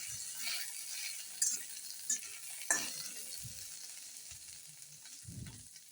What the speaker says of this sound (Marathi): मिरच्याला सतत हलवत छान असं भाजून घ्यावे।